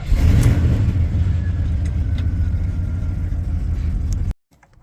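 A Chevy car engine runs loud and close with a steady rumble, then cuts out abruptly near the end as it stalls, leaving near silence.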